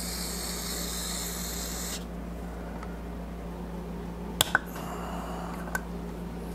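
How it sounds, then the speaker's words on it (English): A hissing aerosol spray runs for about two seconds while cleaning a Honda Shadow 750 motorcycle carburetor, then stops, followed by a few sharp clicks and short taps in a quiet room. "Let's spray that out real fast."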